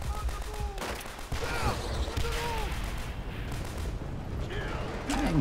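Machine gun fire in Call of Duty: World at War, loud bursts of rapid shots repeating through a busy battle mix, with other weapons, whistling effects and a voice mixed in.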